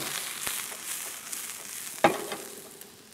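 Mushrooms and garlic fry in a pan with a steady, soft sizzle, broken by a sharp clack of a utensil against the pan near the middle. No one speaks.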